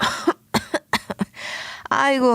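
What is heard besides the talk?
coughing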